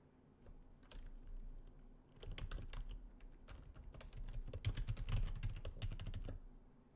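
Rapid keystrokes on a computer keyboard while entering a password, dense bursts of close clicks that speed up and slow down with brief pauses, no talking.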